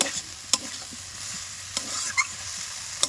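Soybean and potato curry being sautéed in a pan, a steady close sizzle with a few sharp scraping stirs of a spoon against the metal, no voices.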